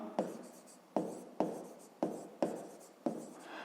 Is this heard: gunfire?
no